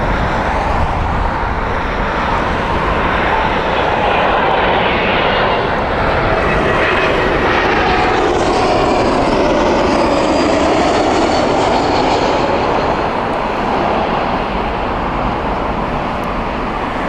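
A jet airplane at Heathrow Airport makes a loud, sustained roar that swells and sweeps in pitch as it passes, with road traffic rumbling underneath throughout.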